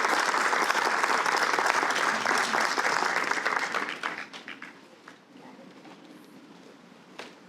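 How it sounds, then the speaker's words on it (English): An audience at a literary competition reception breaks into loud, dense applause that holds for about four seconds, then thins to scattered claps and dies away. "Let's give Dr. Lloyd as well as Elijah Major a warm round of applause."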